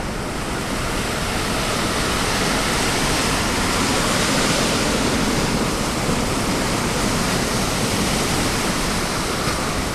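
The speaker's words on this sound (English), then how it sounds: "The wave hits land and rolls onward." Ocean wave striking the shore and rolling on inland, a loud, continuous broadband roar and rush of churning water that holds steady throughout with no voices.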